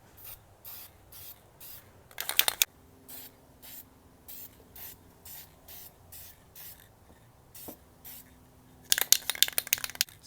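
A VHT Nightshades tint spray can spraying onto a car tail light: a rapid series of short, close hissing bursts in an even rhythm, with two longer, louder sprays and a faint steady hum underneath.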